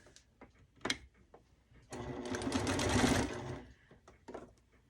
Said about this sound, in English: let's go ahead and sew down this edge